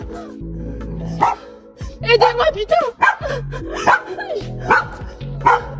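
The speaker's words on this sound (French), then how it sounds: "Mais il a qui ce chien?" A dog barks repeatedly and close by in short, sharp bursts, while someone shouts urgently over and between the barks.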